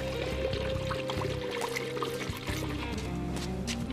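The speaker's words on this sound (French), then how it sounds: "effectuez les remplissages d'huile et de liquide de refroidissement" Engine oil and coolant pour into a Peugeot 206 1.4 HDi DV4TD diesel engine, a steady close liquid flow running the whole time over a faint tonal hum.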